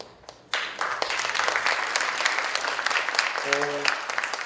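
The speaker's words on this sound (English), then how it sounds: "Let's give a round of applause for Tina Singh." After a quiet moment, an audience at a charity event bursts into a full round of applause that stays dense and even, with a voice briefly speaking over the clapping near the end.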